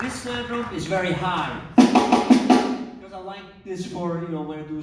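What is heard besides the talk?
No everyday noise stands out behind the speech.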